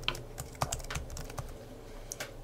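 A project name is typed on a computer keyboard in a quick, quiet run of close keystroke clicks with a few sharper taps, and nobody speaks.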